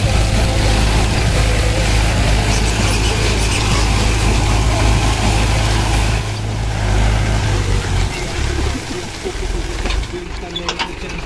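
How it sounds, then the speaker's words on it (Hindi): A Mahindra 575 DI tractor engine pulls a 14-disc harrow, a loud, close, steady diesel drone with clanking and rattling of the discs, with the tone shifting partway through as the engine slows. "ये देखो कितनी बढ़िया आवाज है, बहुत ही सॉलिड आवाज है इंजन की।"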